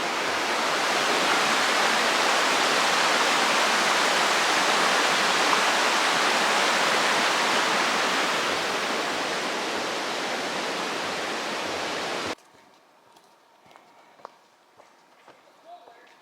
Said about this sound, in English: There's the bridge over Panther Creek.